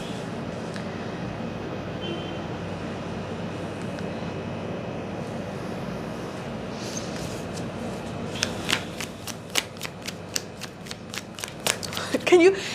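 Tarot cards being shuffled, a soft continuous riffle and flutter giving way to a run of crisp, regular card snaps near the end, over a steady background hum.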